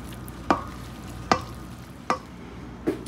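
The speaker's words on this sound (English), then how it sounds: "Now mix that around." A spoon stirs a green bean casserole mixture in a bowl, making four evenly spaced scraping strokes over a soft, steady background, close and clear with no talk.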